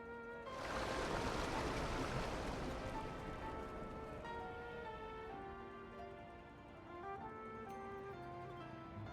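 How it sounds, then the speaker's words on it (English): Water rushing and draining through sewers in Pokemon Legends Z-A, a loud burst of splashing flow that settles into a steady wash under a soft musical tone. "Look, the water's draining through the sewers."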